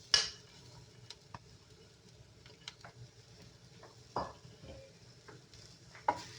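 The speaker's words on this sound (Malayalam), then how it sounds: "ക്യാബേജ് ഇട്ടിട്ട് 2 മിനിറ്റ് ഹൈ ഫ്ലെയിമിൽ നന്നായി ഇളക്കി കൊടുക്കുക" Shredded cabbage stir-fried over high flame in a pan, a quiet steady sizzle broken by a few sharp scrapes and clinks of the spatula against the metal, close and fairly faint, with no talking.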